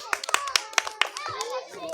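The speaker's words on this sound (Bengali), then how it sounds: "হাততালি দাও একটা হাততালি" Children clap sharply in quick irregular bursts during a village balloon game in Bengal, with a voice and an adult talking between the claps.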